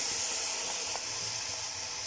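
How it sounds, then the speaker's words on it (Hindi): Chicken pieces straight from the freezer fry in masala for chicken qorma, giving a steady, close, continuous sizzle and hiss with faint stirring clicks and no talking. "यहाँ पे देखें चिकन खुल चुका है और ये अच्छी तरह भून हो रहा है।"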